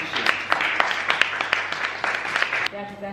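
A small group claps in quick, fairly even beats during a Christmas-themed giveaway, the applause close and lively before it cuts off and a voice briefly takes over near the end.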